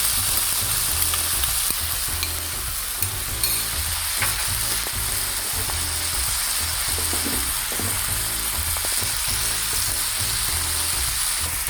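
Thai pork fried rice sizzling loudly in a hot pan as rice and sauce go in, a constant crackling fry with occasional scraping and stirring clatter, close and unbroken.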